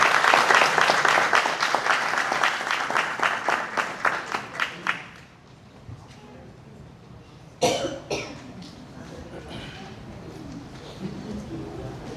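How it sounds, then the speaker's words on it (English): Applause from an audience after a speech at a city awards event, a rhythmic burst of clapping that dies out after about five seconds, followed by a loud cough and a few quieter coughs in a hushed room. "Let's give him another round of applause."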